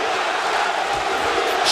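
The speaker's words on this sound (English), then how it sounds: "and listen to this crowd." Arena crowd at a heavyweight boxing match, a dense continuous roar of many voices that stays loud and steady throughout, with commentary faintly mixed in.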